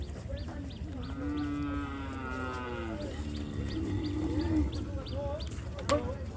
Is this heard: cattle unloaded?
yes